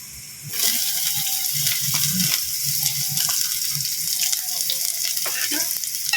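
Onions go into a pan with garlic while cooking a Filipino ginataang fried tilapia dish. A steady, moderate sizzle follows a soft clatter, with light scraping and stirring over it.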